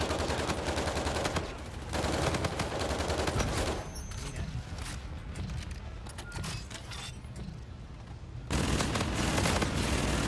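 Rapid, loud automatic gunfire in the first-person shooter Call of Duty: Infinite Warfare, sustained bursts with a short quieter gap in the middle before the firing resumes at full volume.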